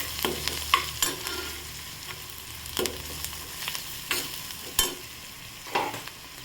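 Red chilli powder and turmeric frying in a pan for a dry potato dish, stirred with sharp scraping clatters at irregular intervals over a faint, steady sizzle.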